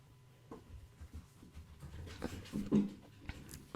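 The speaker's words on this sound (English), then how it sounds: "Strange dog." A dog pants and whimpers in short, uneven bursts close to the listener, with faint scuffling noises between them, all fairly quiet against a low room background.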